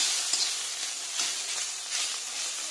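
Winter cauliflower fries in a pan, giving a steady, even sizzle with faint crackles, heard alone without any talk.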